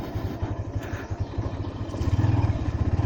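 An off-road motorcycle engine chugging as it rides into a muddy stretch, a close, rhythmic low throb that grows louder and more pulsing toward the end.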